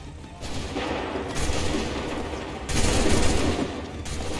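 Musket volleys crack out in Assassin's Creed III, with dense rolling bursts of gunfire from a line of soldiers and a loud second volley erupting midway, each followed by echoing rumble.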